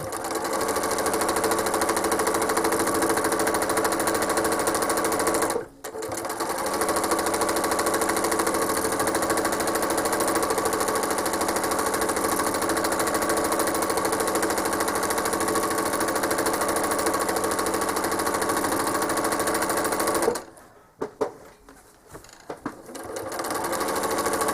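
A sewing machine runs at a fast, continuous stitching drone while quilting a feathered border, with a short pause near five seconds and a stop and stutter of stitches near the end.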